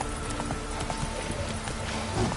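Roach, a horse in a video game, clip-clopping steadily on hooves, with rhythmic hoofbeats over a dense game soundscape and a faint snort near the end.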